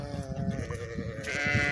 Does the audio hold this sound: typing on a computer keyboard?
no